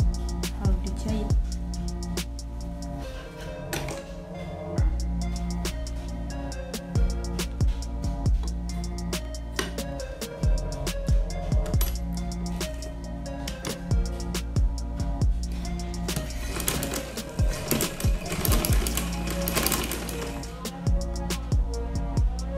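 A sewing machine stitches a Shanghai collar, its motor running as a steady, continuous whir with brief stops and restarts throughout and no talking.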